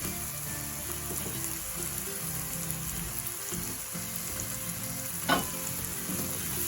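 Onions sauté in a pan while a chicken ballotine is being prepared, giving a steady, close sizzle that runs throughout with one brief scrape or clatter near the end.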